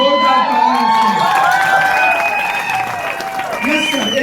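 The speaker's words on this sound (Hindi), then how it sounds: "जोरदार तालियां।" An audience at a seminar applauds loudly, dense clapping mixed with cheering and shouting voices, close and sustained across the whole stretch.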